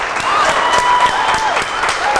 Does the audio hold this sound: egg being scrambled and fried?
no